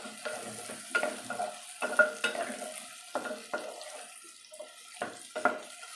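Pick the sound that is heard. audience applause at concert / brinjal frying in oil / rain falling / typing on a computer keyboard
brinjal frying in oil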